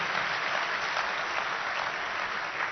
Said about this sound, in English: Please give our Deputy Secretary and the leader of ARPA-E, Dr. Majumdar, a big round of applause